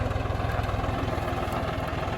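A John Deere 5040D 40-horsepower tractor runs nearby at a steady idle, its diesel engine chugging in a fast, even pulse with a low vibrating rumble and no speech over it.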